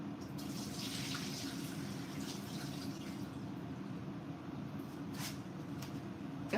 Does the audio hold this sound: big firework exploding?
no